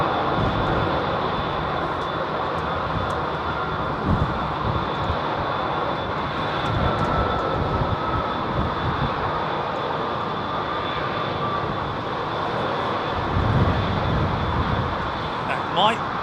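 An aircraft departs from the runway at London Heathrow Airport, its engines producing a steady, loud, broad roar that persists throughout while people talk in the background.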